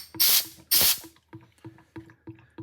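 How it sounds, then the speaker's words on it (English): Compressed air blows out a part: two sharp, loud hissing blasts, then a run of shorter, quieter puffs in quick succession, close up with no talking. "I'm going to blow it out with compressed air."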